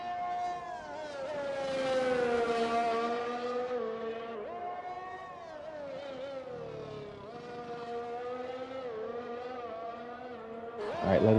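A race car engine screams through a flying lap in a sim-racing league game, its high pitch sweeping up and down with gear changes and corners, steady and prominent, with a sharp rise right at the end.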